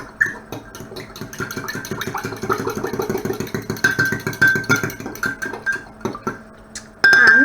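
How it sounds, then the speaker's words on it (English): A fork whisks egg in a measuring jug with quick, rhythmic clinks and taps against the sides that keep an even pace for several seconds. The whisking pauses briefly, then a louder clatter comes at the end. "Using a fork, hold the handle of your measuring jug and mix."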